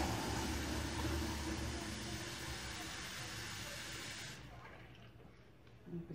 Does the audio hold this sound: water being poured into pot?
yes